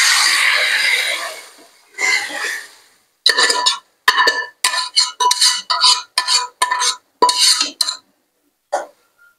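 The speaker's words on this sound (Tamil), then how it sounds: "இப்போ நம்ம வச்சிருக்கிற குருமாவை சேர்த்துருவோம்" Kurma is added to a pan of sautéed tomato, ginger and garlic. A close, loud run of metal spoon clinks and scrapes against the pan comes in quick, separate bursts after a few softer sliding sounds.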